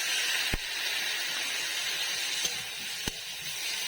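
Potato and green banana curry simmering in a pot with a little water, giving a steady broadband hiss and bubbling close by with a few sharp clicks, no talking.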